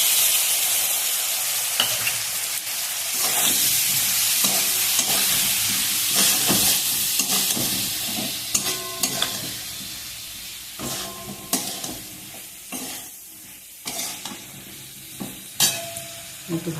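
Spice paste fries in a pan with fried potatoes while being stirred. A loud, close sizzle runs continuously at first, then grows patchier, broken by scraping stirs and bursts of hissing.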